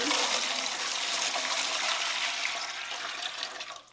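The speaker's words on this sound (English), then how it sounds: "Pour in the water." Water pours steadily into a home canning pot, a loud, continuous splashing rush close by that tapers off near the end.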